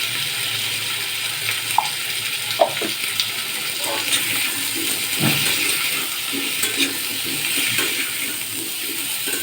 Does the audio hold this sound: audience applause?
no